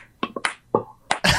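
Crisp finger snaps ring out in an irregular pattern, several sharp isolated clicks with short gaps, followed by a louder burst at the end.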